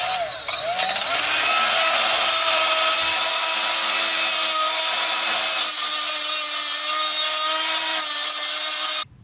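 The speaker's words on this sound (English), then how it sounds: "So let's see how this die grinder handles, because I have to go through this entire other side like I did there." A Milwaukee die grinder with a bit grinds steadily through metal, a loud continuous high-pitched whine with a stable motor tone that runs nearly unbroken for about nine seconds before cutting off abruptly at the end.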